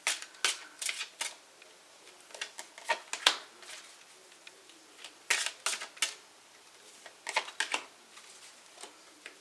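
Druidcraft Tarot, Energy Oracle and Angel Answer Oracle cards are shuffled close by in quick papery riffles and flicks that arrive in irregular clusters across the whole stretch, with no talking.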